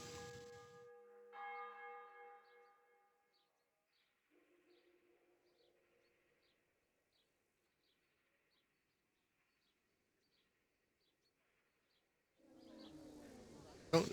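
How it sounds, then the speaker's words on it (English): A church bell rings in the video game Kingdom Come: Deliverance, a run of faint, evenly spaced chimes set against near silence, with brief tones and a voice at the start and noise at the end. "Oh, there's a church bell."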